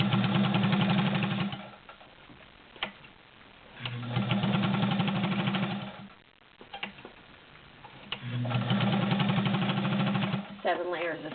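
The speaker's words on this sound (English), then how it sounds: "Let's do like 7 layers of fleece." A Morse Super Dial straight-stitch sewing machine stitches through seven layers of fleece in three steady, rapid runs of clattering stitches, with short pauses and a voice speaking between runs.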